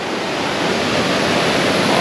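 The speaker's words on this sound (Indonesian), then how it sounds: "Tu anak sungai best. Dia ada lubuk." Steady rushing of a small stream in a valley at a campsite, a continuous broadband wash of flowing water, loud and close with no voices.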